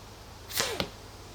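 A blowgun fires a bolt: one short, sharp puff of air with a whoosh, then a quick snap as the bolt lands, close and isolated against a quiet background.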